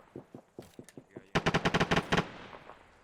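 Machine gun fire in the military game ArmA 3: a few short single shots, then a loud rapid burst of about a dozen rounds, close and sharp, with no talk during the firing.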